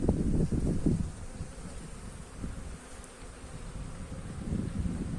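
Honeybees hum steadily around hive frames close to the microphone, a continuous buzzing drone with some louder bursts and wind rustle at the start.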